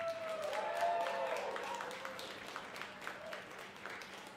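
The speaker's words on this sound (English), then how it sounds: "Thank you, team. Round of applause." An audience at a university Iron Chef cooking competition applauds a team, a soft, dense patter of clapping that is fairly distant and fades gradually, with a voice briefly heard at the start.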